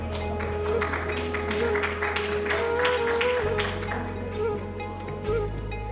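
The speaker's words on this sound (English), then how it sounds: "A round of applause to all our volunteers." An audience applauds volunteers at a peace symposium, steady moderate clapping from a seated crowd that carries on for several seconds under a low background hum.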